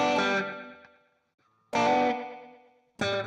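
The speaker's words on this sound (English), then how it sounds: "it sounds cool to pop the strings like that, especially with the bridge pickup, right?" Electric guitar strings popped with the fingers on the bridge pickup through distortion, giving three loud, bright plucked hits that each ring out and decay, with short silent gaps between them.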